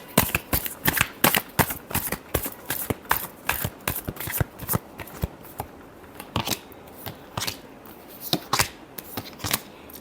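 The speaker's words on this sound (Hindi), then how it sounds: "Last shuffle." Tarot cards are shuffled by hand in quick, crisp bursts of riffling and slapping, repeated again and again with short pauses between. The sound is close and fairly soft, with no talking.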